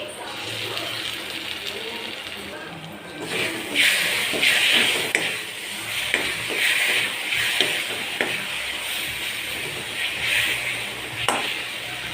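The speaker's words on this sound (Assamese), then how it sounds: "সৰিয়হ বটি ৰখিছিলোঁ সেইখিনি দি পেলাই অলপ সময় ভাজিম" Steady sizzling of mustard paste frying in a pan, with bursts of crackle and scraping as it is stirred, fairly close and continuous throughout.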